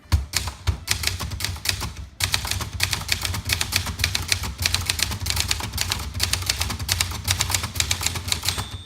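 Brisk typing on a 1979 Brother Deluxe 1350 typewriter, rapid sharp clacks of type bars striking in quick bursts with a short pause near the start, close and crisp, no voices.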